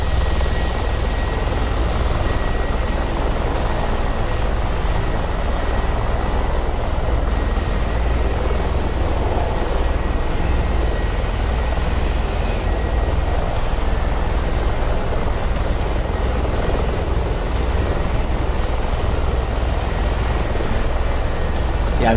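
Helicopter in DCS World, a steady, loud rotor and engine drone that runs continuously without a break, with no clear speech on top.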